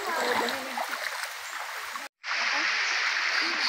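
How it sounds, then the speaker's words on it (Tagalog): A river in Mindoro runs with water coming down from upstream, a steady broadband rush and gurgle heard close, broken by a brief cut, with a voice talking faintly over it. "Tunog mula sa taas ang tubig."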